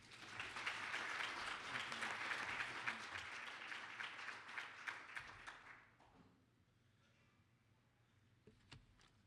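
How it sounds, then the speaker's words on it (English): Audience applause welcoming a speaker at an afternoon consensus session, loud sustained clapping from a room full of people for about six seconds, then tapering off to a quiet room with a few scattered claps. "please help me to welcome him with a round of applause"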